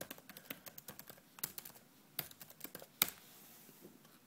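Quick bursts of typing on a computer keyboard, close and fairly quiet, with uneven clusters of key clicks and a few sharper taps, as a website name is entered into Google Chrome.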